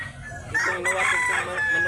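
A rooster held in hand at a market in Mantalungon, Cebu lets out a loud, close crow that rises and holds, over faint background noise.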